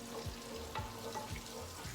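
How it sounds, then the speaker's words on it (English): Garlic frying in a pan for bacon spaghetti aglio, olio e peperoncino, a steady low sizzle with a few soft stirring scrapes, close and quiet. "you can see my garlic is cooking up in my pan here."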